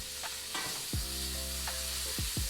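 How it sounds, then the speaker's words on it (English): Greens sauté in olive oil with a steady, close sizzling hiss, accompanied by tonal sounds and a few sliding chirps. "as we're sauteing them in that olive oil"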